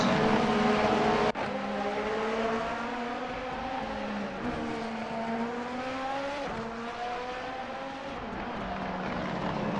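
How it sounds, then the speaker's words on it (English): Several Formula race car engines in a racing video game at Motegi whine and shift pitch together, a dense continuous roar of revving with gear changes, loud and close. "we are going to be seeing some raw engine sounds"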